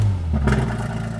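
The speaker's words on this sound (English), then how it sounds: "Check out this video of me driving the GT3 RS." A Porsche GT3 RS with a 4.5-litre engine and custom exhaust revs hard and close, a steady low engine drone swelling into a short rise in pitch.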